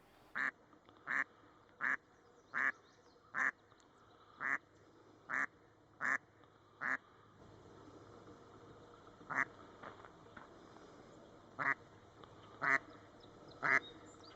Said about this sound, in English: There's a video with duck in a subway.